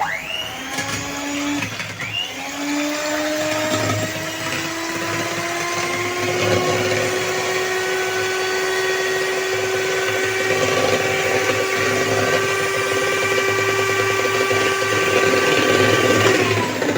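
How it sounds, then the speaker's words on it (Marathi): An electric mixer beats eggs for a truffle cake as powdered sugar is added bit by bit; the whirring motor rises slightly in pitch and runs loud and steady throughout, close up, with no talk. "आता आपण अंडी फेटायला घेऊया।"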